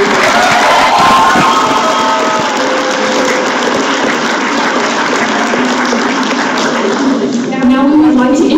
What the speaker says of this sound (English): Let's give them one more well-deserved round of applause.